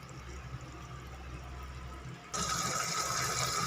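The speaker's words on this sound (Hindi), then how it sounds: "अब मैं इसमें ऐड करूँगी 4 गिलास पानी।" Four glasses of water poured into fried rice masala for white pulao, a steady close splashing and filling sound that swells louder partway through.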